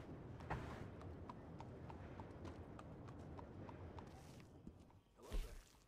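Horse hooves clip-clop steadily in Red Dead Redemption 2, a continuous quick rhythm of hoofbeats at moderate distance, with a brief whoosh and louder thump near the end.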